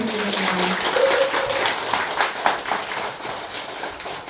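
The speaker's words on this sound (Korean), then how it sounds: "네, 더 큰 박수 부탁드립니다." Applause from an audience after a monk's Buddhist dharma talk, many people clapping in a sustained, lively patter, with a brief voice at the start and a faint tone mixed in.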